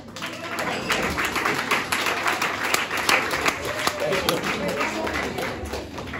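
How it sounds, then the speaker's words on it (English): Comedy club audience at an English-language comedy night in Landstuhl, Germany, breaks into steady, dense applause with many hands clapping at once, loud and continuous throughout without a voice on top. "please give a huge round of applause for the very, very funny Joe Jack."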